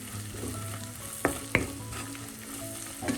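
Black pomfret fish curry ingredients stirred in a pan of oil, with a steady low sizzle and two sharp spoon scrapes against the metal near the middle, no voices.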